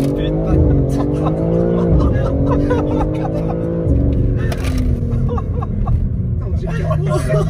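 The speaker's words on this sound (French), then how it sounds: "Avec la belle sonorité, le beau bruit et le 6 cylindres en ligne, bien sûr, qui est libéré." BMW M3 xDrive with its inline six-cylinder, tuned past 650 hp with an Akrapovic exhaust, roaring hard through a launch-control start, loud revving with gear-change dips and crackles, while people talk and shout excitedly nearby.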